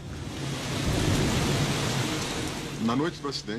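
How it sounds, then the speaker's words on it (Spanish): Heavy rain and thunder during a storm over São Paulo, a dense broadband wash of rainfall with low rumbling underneath, steady and loud throughout, with a narrator's voice entering near the end. "Pero 3 días antes del accidente, empezaron las lluvias fuertes."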